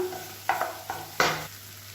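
Chili powder masala frying in oil, with the oil starting to separate, for a ragi dish. A few brief stirring scrapes and crackles, two of them louder bursts, over a low steady background hum.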